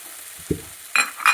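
Crumbled leftover bajra bhakri stirred in oil in a pan, a soft low scrape followed by two brighter, louder scraping strokes against a quiet background.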